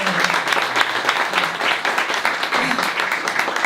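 Audience at a literary event in Montreal breaking into sustained applause, a dense, even wash of clapping that carries on for several seconds.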